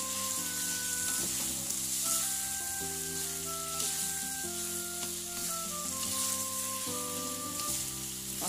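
Shrimp stir-fried in a hot pan with salty tauco bean paste hiss and sizzle steadily and close, with scraping stirs, under a continuous melodic music backing with no talking.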